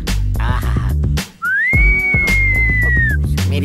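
A loud, steady whistled tone from a character in a Hindi-dubbed Telugu comedy film, rising into one long sustained note over a music bed.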